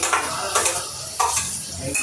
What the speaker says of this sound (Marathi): कांदा परतायला टाकलाय.